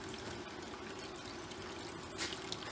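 Water pours steadily into a pot of chicken, a faint continuous trickle with a small splash near the end and no talk over it.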